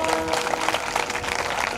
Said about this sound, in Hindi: तालियां बजाओ जरा इनके लिए।